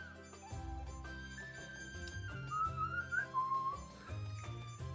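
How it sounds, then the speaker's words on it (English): A person whistles a wavering melodic line over a backing of instrumental music with steady low chords; no one speaks. "I do whistle a lot."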